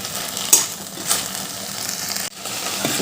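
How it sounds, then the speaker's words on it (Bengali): Jute leaves frying in a pan while being stirred, a steady close sizzle with a few scraping stirs and small clinks of the utensil against the pan. "একটু ভালো করে নেড়ে চেড়ে ভেজে নিতে হবে"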